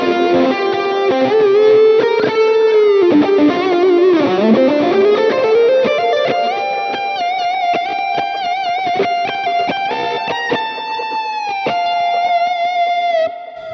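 High-gain electric guitar lead tone from a Line 6 Helix patch: a loud, sustained distorted solo with bends and vibrato, then a fast run of notes in a steady flowing line, heard close with no talking.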